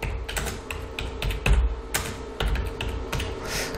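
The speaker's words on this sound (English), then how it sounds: "So I'm going to type really hard, so hopefully it will appear on my wave, like typing." Hard, fast typing on a computer keyboard, a steady run of sharp close clicks and clacks with a few heavier thumps, heard alone with no talking.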